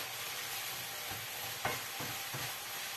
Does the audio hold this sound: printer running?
no